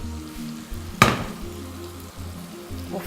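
Fish biryani sauce simmers and sizzles in a pot, a faint steady crackle with one sharp clank of a utensil against the pot partway through.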